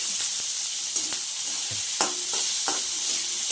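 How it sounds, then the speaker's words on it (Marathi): Chopped onion sautéing in oil in a pan for a okra dish, a steady bright sizzle with occasional scraping stir clicks and spoon knocks, close and without talk. "कांदा जरा परतवून घेऊ।"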